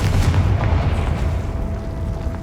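Spell blasts from Bombarda and Confringo burst in the Hogwarts Legacy video game, a dense, loud rumble of booming explosions running continuously through the moment with no talking.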